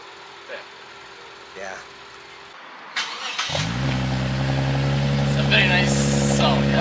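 A custom 2016 Toyota Mark X GS on air suspension starts up partway through, its engine settling into a steady, deep, muffled exhaust idle that is fairly close and not especially loud, following a quiet stretch with faint background sounds.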